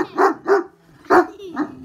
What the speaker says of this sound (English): Are you barking because you want attention?